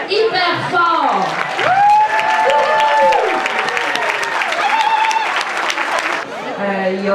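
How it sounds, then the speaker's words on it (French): An audience at a Centraide campaign gathering in Manicouagan claps loudly and steadily, with voices and cheering mixed in throughout and a speaker resuming as the clapping fades. "On les applaudit hyper fort."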